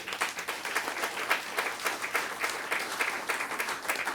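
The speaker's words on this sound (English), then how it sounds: "Everybody give them a round of applause." After a final student construction science presentation, an audience claps in a fairly quiet, steady round, individual claps faintly distinguishable within the even patter.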